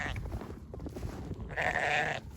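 Cattle in a winter pasture on a subzero day call out with a loud, drawn-out bellow near the end, over a steady background of lower animal noise and wind.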